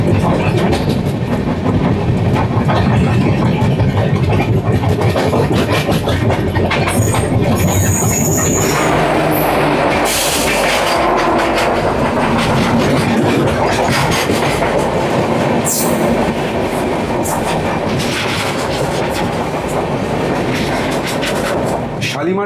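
Sri Jagannath Express, an express passenger train on the Shalimar–Puri route, running near Balasore: a loud, steady rumble with rhythmic clickety-clack of wheels over rail joints and brief wheel squeals, continuous throughout with faint voices beneath.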